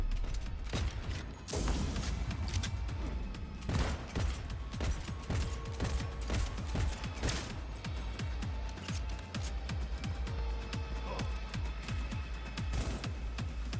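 Shotgun gunfire in the video game Cyberpunk, a dense run of loud, sharp blasts in quick succession with metallic mechanical clatter between the shots, continuing for over ten seconds.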